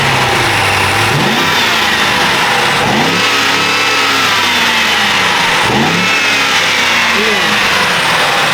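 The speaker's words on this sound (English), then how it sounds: "You can kind of hear the turbos pretty good." A BMW M550i (G30) engine with a Dinan cold air intake revs loudly in repeated surges, rising and falling roughly every few seconds, with a whooshing turbo whine over the roar.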